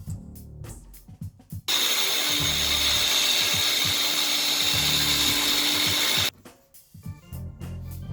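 A power tool cuts a slot through a Foxbody Mustang bumper for a tow hook. It is one loud, steady grinding run of about four and a half seconds, with quieter knocks and handling sounds before and after.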